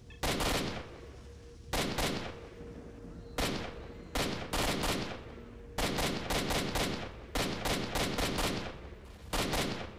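AK rifle fire in S.T.A.L.K.E.R. Shadow of Chernobyl: loud, close automatic bursts come in rapid clusters, separated by short pauses, over about ten seconds with no talking.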